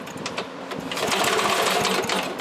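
An old Lindell Litter Getter yard vacuum's small engine turns over with a rapid, buzzing mechanical chatter, close and steady, without catching or running on its own.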